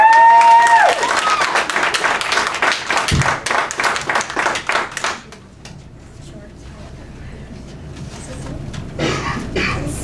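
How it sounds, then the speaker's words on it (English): An audience applauds a contestant at a high school singing show in Moncton, loud rapid clapping with cheers that gradually thins into scattered claps and a quieter room, with a voice heard at the start. "Let's have a big round of applause for Ashley Bernard."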